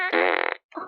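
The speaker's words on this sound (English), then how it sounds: "Oh my God. Fart gun." A toy fart gun lets out a loud, buzzing fart blast close to the mic, followed by a shorter second squeak.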